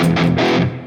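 A Harley Benton Fusion 3 electric guitar with stock Roswell humbuckers plays through a raw Marshall amp model on a Nux MG-30 multi-effects unit. Loud distorted chord stabs come in a quick burst of about three hits, with no other sounds.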